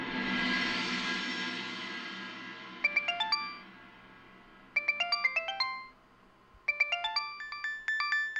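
A phone ringtone sounds in three repeated bursts of bright electronic tones after a fading swell of sound, clear and moderately quiet with no talking.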